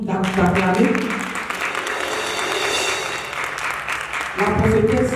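Audience applause at an evening of prayer for Côte d'Ivoire held in Baltimore, Maryland, steady clapping and cheering filling the room for several seconds, while a voice speaks over it at the start and end.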